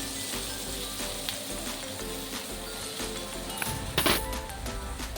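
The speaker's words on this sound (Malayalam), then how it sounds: "അപ്പം നമ്മുടെ ഫിഷ് ഫ്രൈ ഏകദേശം സെറ്റായിട്ടുണ്ട്." Fish frying in hot oil in a pan at home, a constant crackling sizzle with light scraping and a brief louder clatter near the end.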